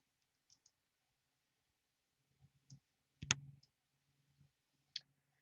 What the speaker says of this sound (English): We can use the magic right click button